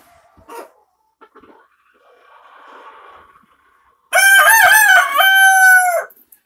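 A young Legbar rooster crows once, loud and close, with a long wavering call lasting about two seconds after a stretch of faint rustling and quiet farmyard background.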